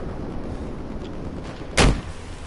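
A single heavy tank cannon shot booms once in a video game, sharp and loud over a steady low rumble of engine and ambient game noise.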